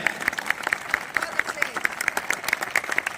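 Applause from a gathering at a Swami Narayan temple in Pakistan during a Gita talk, a steady patter of clapping hands throughout, with voices murmuring underneath.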